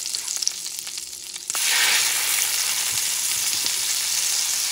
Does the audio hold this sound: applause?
no